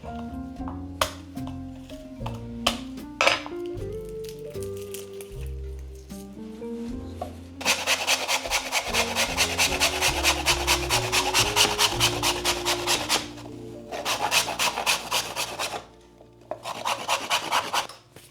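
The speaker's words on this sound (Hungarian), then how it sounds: "bele gyömbér, kicsit a héját lekapirgálom, és amúgy ezt reszelni szoktam" Ginger root being grated by hand, a dense rasping scrape that runs continuously for several seconds after a quieter stretch of clicks and small kitchen handling noises, close and fairly loud, with no talk.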